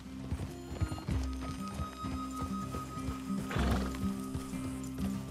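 Horses in the video game Red Dead Redemption 2, hooves clip-clopping in a steady walking rhythm close by, with a whinny partway through.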